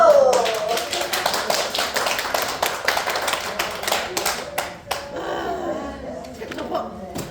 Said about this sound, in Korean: 끝났어요. 박수.